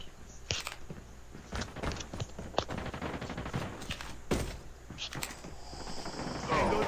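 Rapid gunfire bursts from a video game shooter, sharp repeated shots and fusillades filling the scene with scattered footsteps between, the firing loud and close throughout with no pause.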